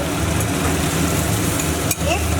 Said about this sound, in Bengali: নারকেলটা দিয়ে আমি একটু নাড়ছি